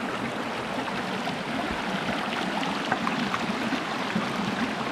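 A mountain creek flows steadily, a broad, constant rush of water that is fairly loud and close, with no voices over it.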